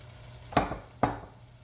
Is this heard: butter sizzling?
yes